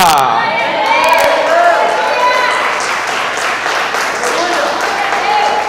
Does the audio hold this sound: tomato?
no